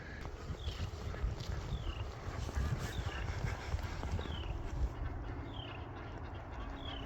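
Ducks quack repeatedly in the distance outdoors, short calls scattered over a steady wind-like background rumble.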